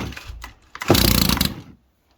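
A brush cutter engine is pull-started: a short scrape of the cord, then about a second of loud, rough sputtering close by before it cuts out into silence.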